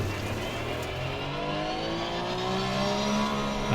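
Porsche 911 GT3 R in the Assetto Corsa Competizione sim at Spa, its engine revving hard through second gear in a steady, loud climbing pitch with no pause.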